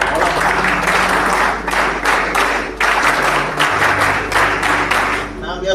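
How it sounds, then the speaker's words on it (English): Audience applause for Mrs. Yoddhaa at a school leadership talk, loud pulsing bursts of clapping with short gaps, over a low steady hum, with voices faintly under it. "So let us have a huge round of applause for Mrs."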